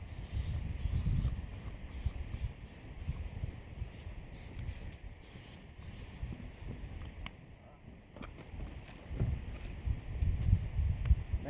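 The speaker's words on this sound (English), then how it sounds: "I'm going to spray my bird with a little butter, Pam." Butter-flavored Pam cooking spray hisses in short bursts onto a bird being prepared for cooking outdoors, close to the microphone with a steady background of insect chirping.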